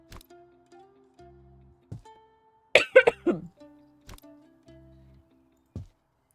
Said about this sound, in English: The coughing is the most annoying part about this cold.